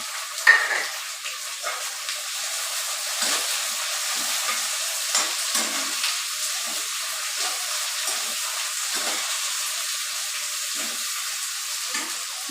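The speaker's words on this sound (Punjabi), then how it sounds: "ਸ਼ਿਮਲਾ ਮਿਰਚ ਆਪਾਂ ਇੰਨੀ ਕੁ ਫਰਾਈ ਕਰਨੀ ਸੀਗੀ ਹੁਣ ਪਾ ਦਾਂਗੇ ਪਿਆਜ਼ ਤੇ ਹਰੀਆਂ ਮਿਰਚਾਂ" Capsicum frying with onions and green chilies, a steady broad sizzle with intermittent stirring scrapes running throughout, close and moderately loud with no voices.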